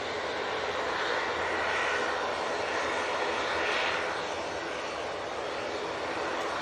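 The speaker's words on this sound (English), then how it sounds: "the Etihad's taken quite a wide departure, going right over Barton on the way out" An Etihad airliner climbs out of Manchester Airport, a broad, steady engine roar that swells gently and holds without a break, distant but dominant.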